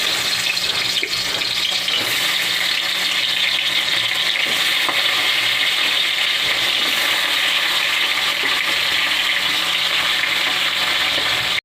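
Bhola fish coated in turmeric and salt fry in hot mustard oil in a wok, giving a loud, continuous sizzle with crackling spatters that runs unbroken from start to finish.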